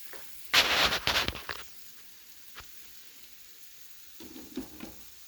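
Loud crackling sizzle bursts up for about a second, then fades to a faint hiss with a few quieter pops and sputters near the end.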